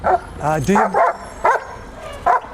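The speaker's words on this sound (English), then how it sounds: "as smart as the dog is, he's still a dog." Police K-9 dog giving several short barks and yips in quick uneven bursts, loud and close.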